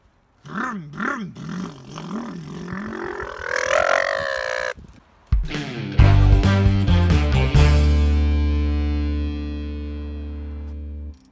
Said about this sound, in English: this one in particular has been fitted with 2 cherry bomb exhausts